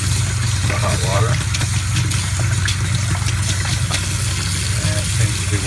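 Loud, steady rush of water pouring from an RV tap after a fresh water pump replacement, with sputtering and gurgling from air in the hot water line, continuous and close.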